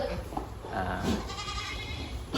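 Male goats being fattened on a goat farm bleat loudly and close by, with repeated wavering calls overlapping over constant pen noise.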